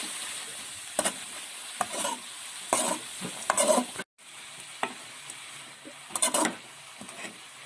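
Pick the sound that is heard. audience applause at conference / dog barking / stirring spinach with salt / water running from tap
stirring spinach with salt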